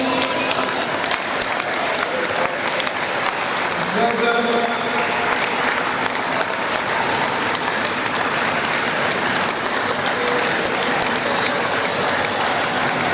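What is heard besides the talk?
crowd applause at wheelchair rugby final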